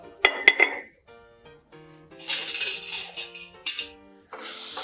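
A glass jar used for packaging papaya pickles being handled: sharp clinks and knocks in short bursts, with brief pauses between them and a few quieter taps.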